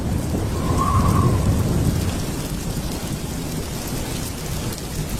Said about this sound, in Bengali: বাইরে ঝমঝম করে বৃষ্টি পড়ছে।